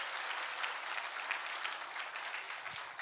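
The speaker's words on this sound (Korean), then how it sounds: "박수." Steady applause from an audience fills a church during a healing revival service, dense clapping holding evenly throughout with no speech over it.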